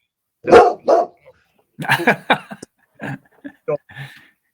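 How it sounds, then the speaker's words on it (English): A dog barks close by, two loud barks followed by a quick run of shorter barks and yips, with brief talking mixed in between. "Settle down, dog. Yeah, dog's barking."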